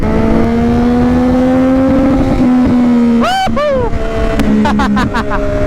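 A Yamaha XSR900 three-cylinder motorcycle engine with drift exhaust revs up and down several times in first gear, with a sharp rising and falling whine, over a steady idle.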